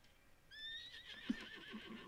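In the online horse-riding video game Star Stable Online, a horse gives a single clear, rising-then-falling whinny, followed by a couple of soft hoof clops, heard alone against a quiet background.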